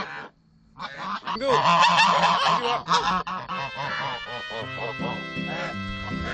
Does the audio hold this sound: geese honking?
yes